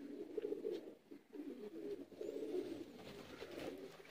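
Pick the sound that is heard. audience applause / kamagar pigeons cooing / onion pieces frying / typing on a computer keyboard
kamagar pigeons cooing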